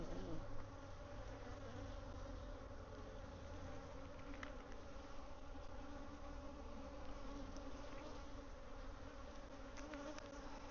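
Steady, dense buzzing of many bees in a sparsely populated hive fills the whole stretch, a continuous close drone without pauses.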